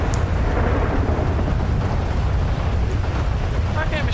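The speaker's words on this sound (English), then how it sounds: "This lightning's actually intense as fuck, fair play." A thunderstorm in the GTA V game world gives a continuous loud roar of heavy rain, wind and rumbling thunder that fills the scene and stays steady throughout.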